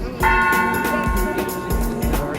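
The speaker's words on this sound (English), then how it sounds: "but it starts with this bell." A large bell at Hershey Park rings out for the park's opening, struck repeatedly in a slow, steady rhythm with long ringing overtones, loud and close with no voices.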